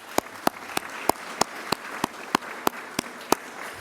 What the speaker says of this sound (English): Let's give each other and to the incredible team here a big round of applause.